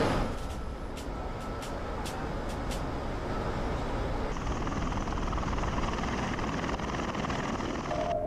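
A V-22 Osprey tiltrotor aircraft in flight, heard as a steady, loud, dense rotor and engine roar with rhythmic thumping that continues throughout without pause.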